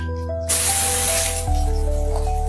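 Masala spice hitting hot oil with Kashmiri red chili in a pan over low gas, a loud sudden sizzle and hiss that bursts in and keeps spitting steadily close by.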